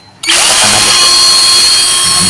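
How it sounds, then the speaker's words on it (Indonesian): A power drill bores holes in a motorcycle piston, starting abruptly and then running at a loud, steady high-pitched whine close by. "kita akan bor semuanya ya"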